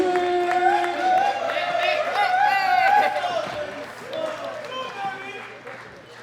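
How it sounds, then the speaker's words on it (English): A championship powerlifting crowd at the Men Open 93 kg World Classic Powerlifting Championships roars with loud, continuous cheering, whistles and applause for a gold medal lifter, swelling and then easing off over several seconds. "a big round of applause for Famotimi Hendrick"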